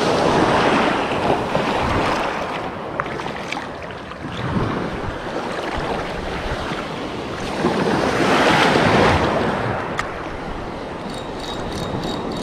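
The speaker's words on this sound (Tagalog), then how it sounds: "Sa agos, alon." Sea waves and strong current at sea during a boat fishing trip, heard as loud continuous surf wash with swelling surges and steady wind buffeting the microphone, no voices.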